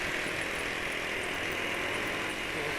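A Honda Vario scooter engine runs with a rough, steady drone, close and continuous for a few seconds with no one talking.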